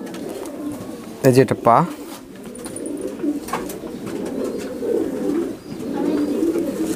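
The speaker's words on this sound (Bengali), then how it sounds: "এটা নীলদুম্বা কবুতর" A Nildumma pigeon coos in low, rolling bursts close by, nearly continuous beneath someone talking over it.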